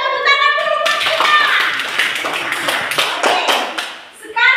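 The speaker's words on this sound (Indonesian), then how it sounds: "Tepuk tangan dulu buat kita." A classroom group claps together in a burst of rapid, overlapping applause lasting a few seconds, with talking just before and after.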